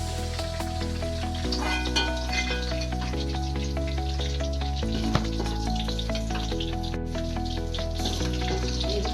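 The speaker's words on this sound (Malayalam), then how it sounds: "ഇനി നമുക്കിതെല്ലാം വറുത്ത് പോരാം" Ginger and spices frying in hot oil for a pickle, a steady, constant close sizzle and crackle that runs through the whole stretch with faint music in the background.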